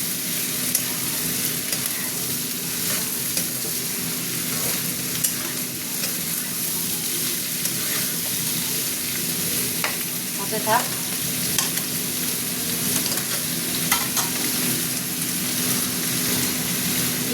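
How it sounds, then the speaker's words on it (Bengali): Pieces of chicken fry in oil in a pan with a steady, close sizzle. Occasional stirring scrapes break through, and a voice says a short phrase. "চিকেনটা ভাজা ভাজা হচ্ছে।"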